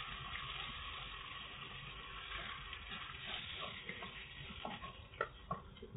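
Onions frying on high flame in a pan for dabba gosht, a steady low sizzle with soft scraping stir sounds and a few light clinks near the end, fairly faint.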